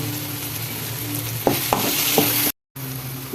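Steady sizzling of onions sautéing in a pan, with a few soft scrapes of stirring and a brief dropout near the end.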